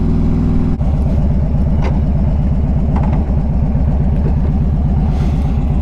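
A 2013 Harley-Davidson Street Glide with the 103 engine idles close by in a steady, loping V-twin rumble, with a brief blip or shift in tone near the start and a faint clatter over the low pulse, no talking.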